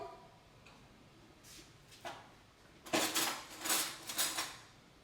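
A spoon is taken from a kitchen drawer while making tamarind balls: faint clicks early on, then a louder run of metallic clinks and rattles near at hand, with no talking.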